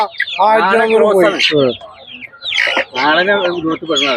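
Domestic chickens at a poultry market cluck and call over loud, nearly continuous talk from nearby people, the birds' voices mixing with the chatter throughout.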